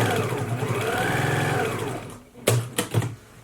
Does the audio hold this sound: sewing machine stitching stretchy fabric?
yes